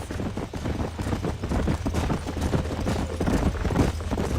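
Horse hooves clip-clop in a quick, steady rhythm in Red Dead Redemption, close and fairly loud over a low rumbling backdrop.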